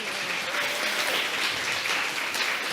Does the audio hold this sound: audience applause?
yes